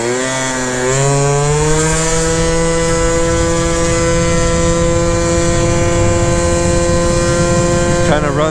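Honda Elite/Dio AF16 scooter with an upgraded CVT pulling away, a close buzzy two-stroke whine that climbs in pitch over the first second, then holds a high steady drone before dropping off at the end.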